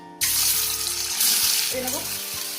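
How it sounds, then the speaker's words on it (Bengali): Eggs frying in hot oil in a wok, giving a loud, steady hiss and sizzle that starts abruptly and continues throughout at close range. "তেলটা গরম হয়ে গেছে, ডিমগুলো এবার ভেজে নেবো।"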